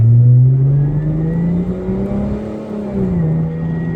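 Dodge Charger engine revving hard and pulling up through acceleration in hot, muggy weather, a loud close droning roar whose pitch climbs, dips briefly and climbs again, heard alone without talk.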